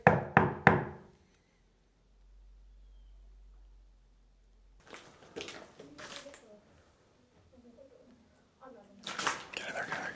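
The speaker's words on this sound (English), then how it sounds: "Can you make a knock?" Three sharp, close knocks in quick succession open a paranormal investigation in a derelict building with smashed-out windows. Quiet follows, then scattered shuffling and bumps.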